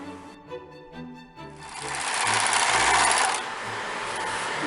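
A sewing machine stitches an overlap in jersey T-shirt fabric, starting with a few quick mechanical clicks and then running into a steady, close whirring hum that carries on to the end.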